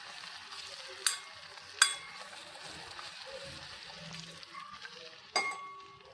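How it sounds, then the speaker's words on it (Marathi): Garlic-ginger paste fries quietly in a pan, a faint steady sizzle broken by three sharp metallic clinks of a utensil against the pan. "थोडी लसूण अद्रकची पेस्ट टाकायची, थोडंसं होऊ द्यायचं."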